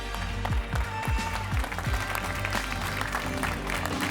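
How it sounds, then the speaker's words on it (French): An audience at a Nutella baking contest claps in an even burst, with thumping and shuffling underneath, at moderate loudness. "on peut vous applaudir vraiment tous"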